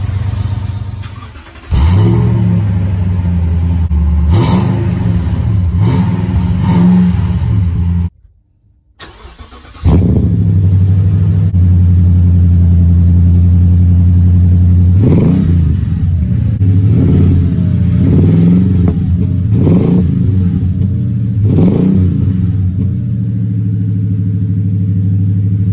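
A 2020 Toyota Tundra with a Borla Pro XS exhaust starts and revs up close, a loud deep idle rumble punctuated by several sharp throttle blips that rise and fall back, with one short cut near the start.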